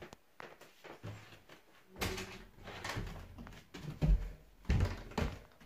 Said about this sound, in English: now it's time to walk back into the safe house and lock the door.